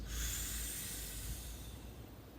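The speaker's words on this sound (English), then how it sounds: "nice big inhale in through the mouth" A big, slow inhale through the mouth, as if sucking air through a straw, makes a soft, breathy hiss that is close and quiet and gradually fades over about two seconds.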